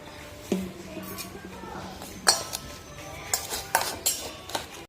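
Pumpkin flower fritter batter with chopped chili, garlic, onion and water mixed in a bowl, giving soft squelching stirs punctuated by several sharp clinks of utensil on the dish, close and moderately loud.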